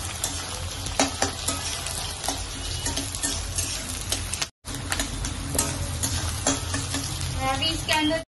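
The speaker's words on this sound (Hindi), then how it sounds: "फ्रेंड्स अभी देंगे इसके अंदर प्याज कांदा, तो अभी थोड़ा फ्राई कर लेंगे" Onions fry in mustard oil in a pan, a close, continuous sizzle with stirring clicks and scrapes, briefly cut off for a moment before carrying on.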